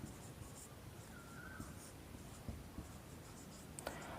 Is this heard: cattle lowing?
no